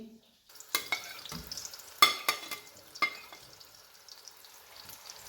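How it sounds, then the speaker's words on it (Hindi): Roughly cut onions frying in hot oil in a kadai, faint sizzling with scattered clinks and scrapes of a spoon against the metal pan, close and quiet, no voices. "1 से 2 मिनट के लिए प्याज़ों को फ्राई कर लेते हैं।"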